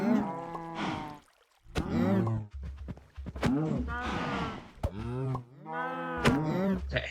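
Cows in the Minecraft Stoneblock modpack moo repeatedly, several long, drawn-out calls overlapping one another at close range, with little pause between them.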